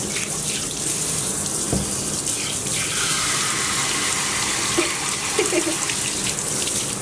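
A shower sprays steadily as it rinses cleansing oil from a Miniature Schnauzer during grooming, a loud, continuous hiss of running water with slight splashing changes, close by.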